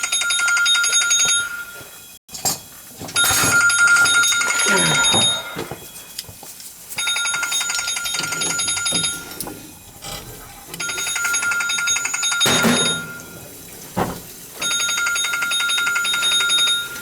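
A phone rings from an unknown caller in repeated bursts of bright electronic trilling, each lasting a couple of seconds and separated by short pauses, with faint background noise between the rings.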